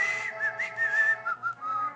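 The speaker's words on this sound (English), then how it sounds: "Do you know how to whistle?" A person whistles a short wavering melody, close and clear, with a few sliding notes and no talking.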